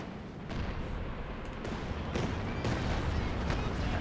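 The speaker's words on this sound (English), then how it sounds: "Artillery coming in." An incoming artillery strike in Company of Heroes 2 lands as a series of dull thuds and sharp cracks over a constant roar of battle, with the din building slightly as it continues.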